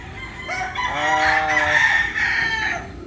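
A Golden Boy broodcock rooster crows loudly nearby, one drawn-out call rising and falling, with some soft clucking around it.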